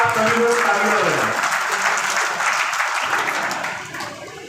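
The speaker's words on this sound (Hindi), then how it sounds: "चाहूँगा आप सभी लोग तालियां बजाएं।" A crowd at a gathering about pigeon-flying contests claps together after a voice ends, the applause strong at first and then gradually thinning and fading away.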